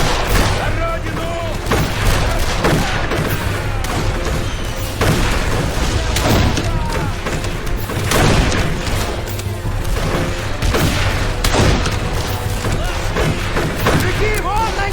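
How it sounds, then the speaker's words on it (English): Artillery barrage in the World War 1 shooter Darkest of Days: dense, continuous booms and gunfire crackle crowd the scene, loud and relentless, while soldiers shout over the din. "Тревога! Артиллерия!"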